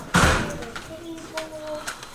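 A hotel room door is unlocked by waving a key card, and the lock gives a short beeping tone. Before that comes a thud as the door is handled, then a soft clunk as it opens, close by.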